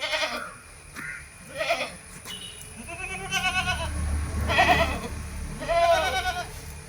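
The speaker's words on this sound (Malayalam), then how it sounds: "ക്രോസ് ബീഡിൽ അത്യാവശ്യം വലിപ്പമുള്ള ഒരാട്" A large crossbreed goat bleats several times, with short calls early and then three longer wavering bleats, close by over a low rumble of farmyard background.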